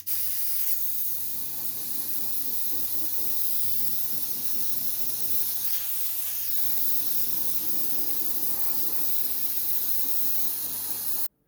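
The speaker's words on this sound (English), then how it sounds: "So first I'm going to prime all of these black and then prime everything else black" Airfix SLS model parts are spray-primed black, heard as a close, loud, continuous aerosol hiss lasting over ten seconds with slight pulsing before it cuts off abruptly.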